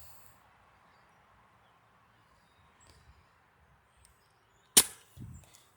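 Airsoft BB shots striking a water-filled cup in a quiet outdoor setting: one sharp, loud crack of impact followed by a short splashing burst, with faint small sounds beforehand.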